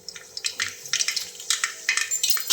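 Rapid irregular crackling and popping of mustard seeds spluttering in hot oil, close up, with sharp bursts and no voices.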